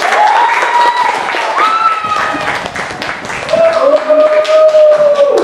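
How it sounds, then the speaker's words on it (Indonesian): Audience applause for the first student group after its product presentation at an Indonesian teacher-training class event, sustained clapping mixed with voices and a few drawn-out tonal cheers or whistles throughout. "Kita beri tepuk tangan yang meriah untuk kelompok 1."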